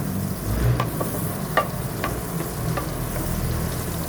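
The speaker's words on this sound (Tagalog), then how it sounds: "So dito sa ating mainit na kawali, maglagay lang ako ng konting mantika at naglagay na rin ako ng butter." Butter and a little oil melting in a hot pan, a soft continuous sizzle with a few faint scattered spatula taps.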